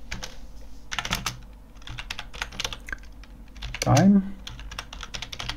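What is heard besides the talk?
typing on a computer keyboard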